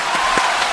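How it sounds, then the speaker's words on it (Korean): A short burst of applause greets a record fuel-economy result during a Toyota Prius Prime test drive, a steady dense clatter of clapping at fairly close range. "박수"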